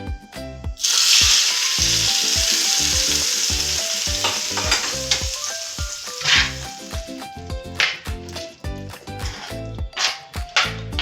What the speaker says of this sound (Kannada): ಸಾಸಿವೆ ಮತ್ತೆ ಎಣ್ಣೆ ಮತ್ತು ಸಾಸಿವೆ ಸಿಡಿಸ್ಕೊಂಡು ಉಪ್ಪಿನಕಾಯಿಗೆ ಇದ್ದೀನಿ